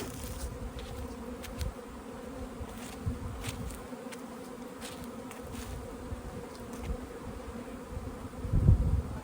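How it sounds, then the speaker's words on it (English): Steady buzzing of many honey bees flying over a yard, close and constant, with a brief thump or wind gust near the end. "This is it. This is the bee flight."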